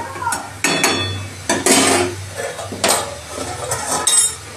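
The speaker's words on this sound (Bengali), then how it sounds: "এবার আমি চাপা দিয়ে দেবো।" A lid set over a pan of mixed vegetable chorchori with fried lentil dumplings, close clanks and metallic rattles of metal on metal in irregular bursts over a faint sizzle; no speech.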